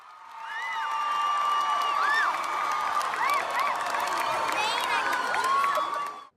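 A crowd at a pop concert cheers and shouts during an on-stage marriage proposal, a dense, loud wash of whoops, screams and clapping that holds steady throughout, with excited voices mixed in.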